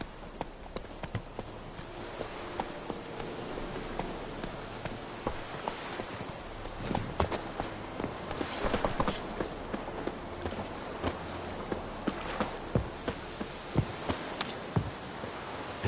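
A horse gallops in The Witcher 3 played on PS5: rhythmic clip-clop hoofbeats run steadily throughout at moderate volume, with a faint background wash.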